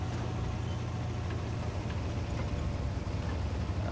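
A low, steady tank engine rumble drones continuously at moderate distance in the video game War Thunder, with no voices over it.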